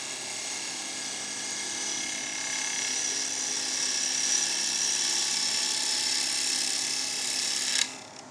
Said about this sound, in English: And now I'm going to do a push cut. Start by rubbing the heel of the tool and then bringing the cut on.